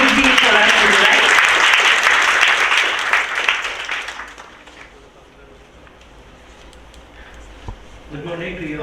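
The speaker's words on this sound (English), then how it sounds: "I'd like to request the participants and volunteers to give bigger round of applause" Audience at an award-giving ceremony applauds loudly for about four seconds, then the clapping fades into quiet room tone before a speaker's voice returns near the end.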